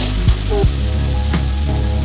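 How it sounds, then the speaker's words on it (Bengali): Dried fish and spices sizzle steadily in a hot pan, a continuous close frying hiss with a couple of brief stirring scrapes near the start. "শুকি মাছ আর মশলাটা একটু দিয়ে ভাজা ভাজা করবো"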